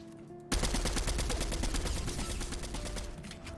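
An SMG fires in Fortnite, a sudden sustained burst of rapid automatic shots, loud and close, running continuously for about three seconds.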